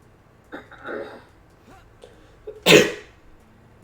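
A single loud, sharp sneeze bursts out close up partway through a Xenoblade Chronicles Definitive Edition play session, preceded by faint murmuring and quiet room tone.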